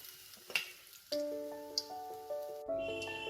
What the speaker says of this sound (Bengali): সবগুলো মাছের পিস আমি ভেজে নিয়েছি